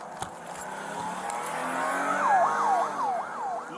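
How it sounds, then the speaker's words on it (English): A stolen patrol car speeds off under a wailing siren that rises and falls rapidly, over steady engine and road noise at moderate distance. "she slammed the car into gear and took off"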